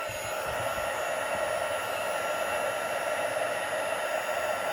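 A handheld heat tool blows a constant, even whoosh of hot air while melting embossing powder on a handmade card, steady and fairly loud from start to finish with no talk.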